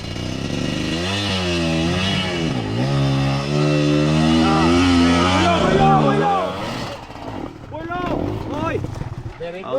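A motorcycle engine revs hard while climbing a steep uphill track, its pitch rising and falling in close, strained surges before fading into choppier bursts; voices are heard alongside.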